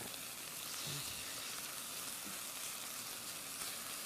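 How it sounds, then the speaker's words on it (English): Steady, crackling sizzle of chicken frying in a pan, close and continuous with no voices. "Very nice sizzle."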